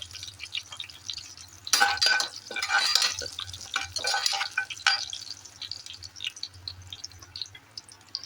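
Crushed garlic and dried red chillies sautéing in a pan for a Chettinad chicken gravy, with a low steady sizzle broken by scraping stirs and light metallic clinks of a spoon against the pan, close and moderately quiet.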